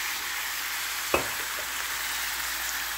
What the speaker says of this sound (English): Let the alcohol cook off